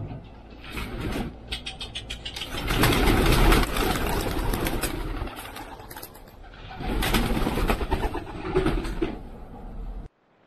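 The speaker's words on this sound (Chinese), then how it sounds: "咱们把这些鸽子放出来。" Pigeons are let out of their coop, giving a busy burst of fluttering wings and soft cooing in two waves, with an engine idling faintly behind them.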